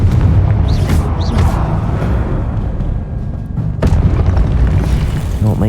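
Confringo spell explosions in the video game Hogwarts Legacy, loud deep booming blasts layered over a dense rumbling combat soundscape, with a few sharper bursts standing out.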